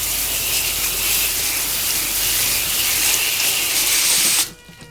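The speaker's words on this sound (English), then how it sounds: "take our hose, clean all that blood out of the fillet" A garden hose sprays steadily, rinsing blood from a bass fillet with a loud continuous hissing rush that cuts off abruptly near the end.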